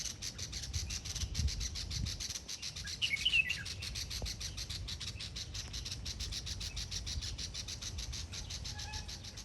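Birds chirp and screech steadily in a noisy outdoor setting, several calls repeating close by over a constant background hiss, with one sharper cry standing out briefly midway.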